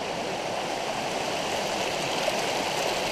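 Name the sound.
small creek flowing on Loyalsock Trail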